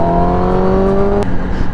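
A 2022 Kawasaki ZX10R sport bike engine holds a loud, steady high-pitched rev close by, then the note drops abruptly as the throttle is released, with no talking over it.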